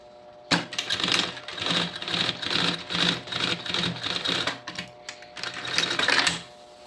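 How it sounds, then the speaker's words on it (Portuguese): A sewing machine stitches synthetic fabric on a backpack in several quick, rhythmic bursts, close and fairly loud, with brief gaps between runs and no talking. "Colocar aqui dentro da máquina. E vou rebater uma costurinha aqui"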